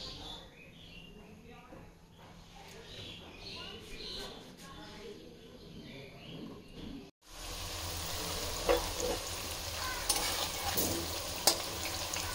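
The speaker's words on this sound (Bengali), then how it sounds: "কপিগুলোকে সব ভেজে নিচ্ছি" Boiled cauliflower florets being fried in hot oil for a Bengali Christmas meal, a quieter sizzle first, then a louder, denser crackle after a brief cut, with stirring clinks and occasional bird chirps.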